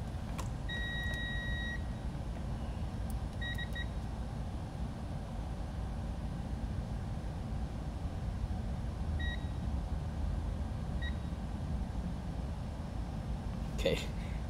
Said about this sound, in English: Let's see if we can do a continuity test on this